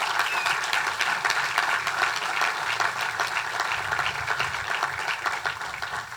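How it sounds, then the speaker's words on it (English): Audience applause honoring a man and his family, dense continuous clapping from a sizable crowd, steady and even for several seconds. "Please give Richard and his family a round of applause."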